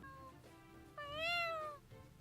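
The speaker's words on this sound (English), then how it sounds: "He made a cat cry." A cat in a One Piece anime episode lets out a single drawn-out, whining meow lasting under a second, clear and close over a faint background hum.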